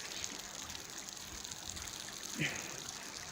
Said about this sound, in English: Look, all this water coming down.